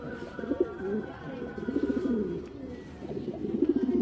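Racing pigeons from a club loft coo repeatedly in throaty, rolling bursts, fairly close and steady throughout with no one talking.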